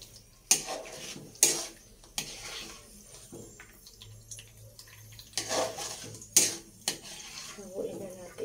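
Food being stirred in a kawali (frying pan), with a handful of sharp metallic clatters and scrapes at uneven intervals over a quiet kitchen background.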